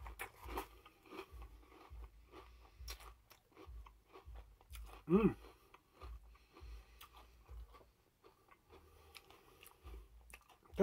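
Cinnamon Toasters Malt-O-Meal cereal with milk is chewed up close, giving a quiet, steady rhythm of soft wet crunching bites with brief pauses and one louder mouth noise midway.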